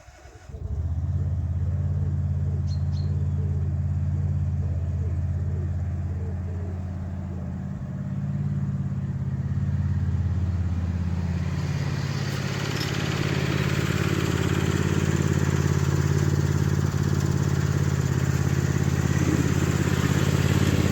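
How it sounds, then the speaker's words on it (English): A small red tractor's engine starts from silence and settles into a steady, close, loud idle, with a low rumbling drone that shifts slightly in pitch midway, running alone throughout. "we'll just let Little Red Tractor warm up for 5 minutes"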